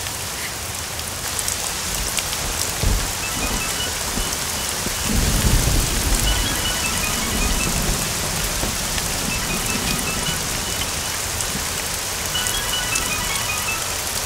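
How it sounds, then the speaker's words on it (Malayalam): Heavy rain pours steadily and loudly on surfaces, a dense continuous hiss with a low thunder rumble swelling midway, no voices present. "ഇവിടെ ഭയങ്കര മഴയാ"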